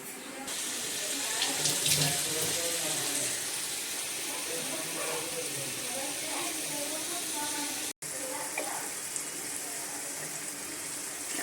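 Water runs steadily from a kitchen tap, a constant close hiss that persists through the whole stretch, with someone talking over it.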